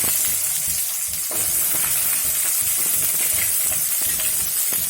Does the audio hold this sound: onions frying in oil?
yes